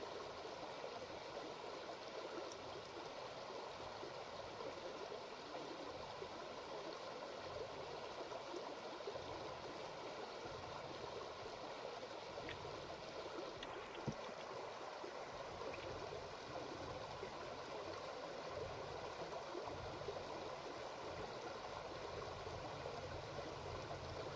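Running water of a stream in the survival game Vintage Story, a steady faint babbling rush that continues unbroken, without any talking.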